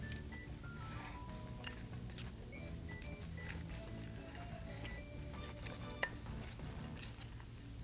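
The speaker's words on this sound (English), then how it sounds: "All right, let's mix that together." Shredded coconut and chopped pecans being stirred together in a bowl, soft scraping and light clinking of a utensil against the bowl under a steady background hum, faint and continuous, no talking.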